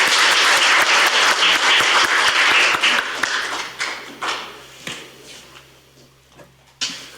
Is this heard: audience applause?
yes